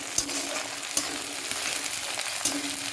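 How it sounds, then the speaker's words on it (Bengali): Chicken curry ingredients fry in a pan with a steady crackling sizzle, broken by a few clicks of stirring, close and moderately loud without talk. "এটা একটু ভাজতে হবে লাল লাল করে"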